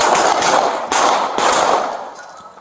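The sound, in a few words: gunshots fired during police shootout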